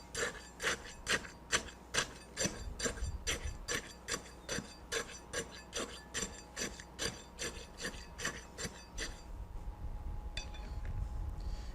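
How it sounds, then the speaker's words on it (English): A 5/8-inch tamping rod rodding a layer of fresh concrete in an air-content pressure meter bowl, giving about two dozen soft, evenly spaced thuds and scrapes close to the microphone, then stopping. "I'm going to use my 5/8 inch diameter tamping rod to rod each layer 25 times."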